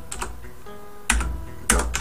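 Keys on an Amiga computer keyboard are typed in a short burst of crisp, close clicks, a few separated keystrokes with sharper presses near the end, heard alone without talk.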